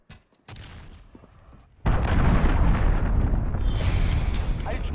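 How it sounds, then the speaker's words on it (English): Cruise missile explosion in Call of Duty multiplayer: brief crackles, then a sudden massive boom that lingers as a loud rumbling roar with debris and crackling for several seconds. "Enemy cruise missile incoming."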